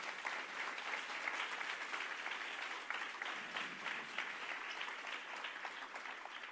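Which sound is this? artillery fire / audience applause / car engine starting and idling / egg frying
audience applause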